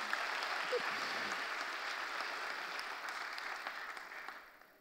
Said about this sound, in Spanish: Yo quiero que usted aplauda al Señor por eso